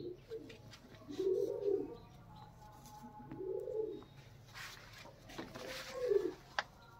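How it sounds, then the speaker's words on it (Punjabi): Young high-flying pigeons of a cross breed coo in soft rounded phrases, three or four calls a couple of seconds apart, close by over faint background clatter. "ਬਹੁਤ ਅੱਛੀ ਕੁਆਲਿਟੀ ਕ੍ਰੋਸ ਸਟੱਡੀ ਯੰਗ ਕਬੂਤਰ ਉੱਡਣੇ ਵਾਲੇ, ਪ੍ਰਵਾਜੀ ਕਬੂਤਰ ਹੈ ਸਭੀ।"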